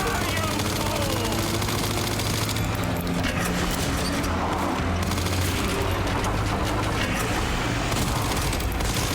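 Sustained gunfire in the survival horror video game Resident Evil Requiem, loud dense bursts of shots and booms layered over game music and effects, continuous for several seconds.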